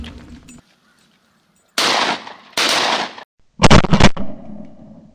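Shotgun fire during a duck hunt in Kansas: after a quiet start, three loud, close bursts of gunfire come in quick succession over a few seconds, the last a rapid cluster of shots, with no talk.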